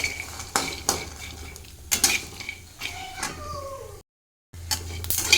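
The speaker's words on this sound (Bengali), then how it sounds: "সেই বাদামগুলো আমি ভেজে দিচ্ছি" Shelled peanuts are fried and stirred in a metal pan, a utensil scraping and clinking against it in a series of close, sharp knocks with a brief gap, no talk.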